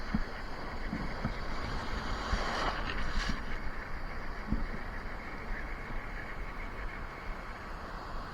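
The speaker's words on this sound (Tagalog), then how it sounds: "grabe, yung hangin." Steady wind rushes and buffets the microphone, a broad roaring hiss with occasional thumps, alone without voices.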